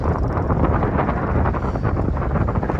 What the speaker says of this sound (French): Il y a beaucoup de vent ici.